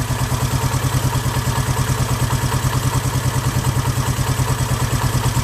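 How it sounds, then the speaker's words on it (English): A Honda 350 motorcycle engine idles steadily at around 1,000 RPM with a fast, even, close-up mechanical clatter that holds constant throughout, with no voices. "Turn on the bike."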